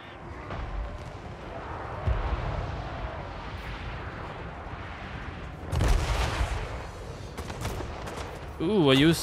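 Dwarf artillery firing during a battle in Total War Warhammer 3, heavy booming shots landing around 2 and 6 seconds over a constant din of battle noise, with a warbling effect at the end.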